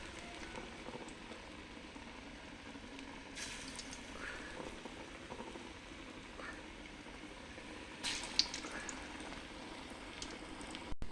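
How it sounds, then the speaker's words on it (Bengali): Lentil fritters (dal bora) fry in hot oil in a wok, giving a steady, soft sizzling and bubbling crackle throughout, with a couple of brief louder spatters near the end. "লাল লাল করে সবগুলো বড়া আমি ভেজে নেব"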